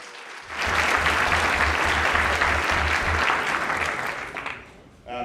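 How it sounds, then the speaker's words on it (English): A conference audience at a climate tech startup showcase breaks into full applause that swells quickly, holds steady, then fades out near the end. "One more round of applause for the both of them."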